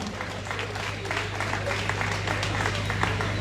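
Audience at a civic town-hall gathering in Bo City claps to welcome a guest, a dense, even wash of applause over a steady low hum, moderately loud and sustained throughout.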